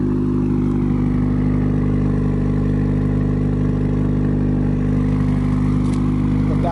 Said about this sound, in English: Cold start, haven't started in over a week